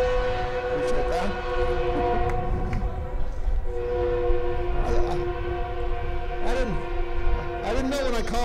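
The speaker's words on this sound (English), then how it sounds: "didn't know when I called out Senator Hatch he was going to get the train to agree and blow the horn there." A train horn sounds in long sustained blasts at an outdoor ribbon-cutting event for a building's opening, its steady harmonic tone carrying over crowd noise and bending in pitch near the end.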